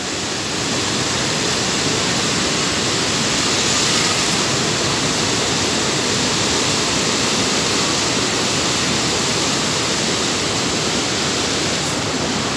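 The flooded Paraíba River rushes through the town of Atalaia in Alagoas, a loud continuous roar of churning water that stays steady and unbroken throughout.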